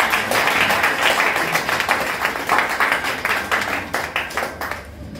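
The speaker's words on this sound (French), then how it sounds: "Cela mérite un tonnerre d'applaudissements." Applause from an audience at a professional coaching programme launch in Guinea, a lively burst of many hands clapping, close and fairly loud, tapering off toward the end.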